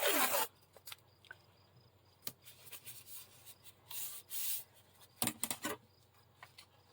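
Medical tape handled while making a beginner folio journal: soft rubbing, crinkling and short tearing scratches in scattered bursts, close and quiet in an otherwise still room.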